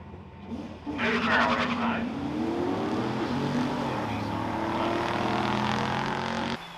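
A drag racing car launches hard with its tires spinning, the engine roaring loudly and climbing steadily in pitch for several seconds before cutting off abruptly.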